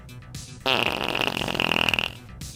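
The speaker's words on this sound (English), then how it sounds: "Today's episode is brought to you by Fart Sound Effect number 6." A comedic fart sound effect erupts suddenly after a brief quiet and runs for about a second and a half as one long, loud, buzzy and wavering blast, then cuts off with a faint trailing noise.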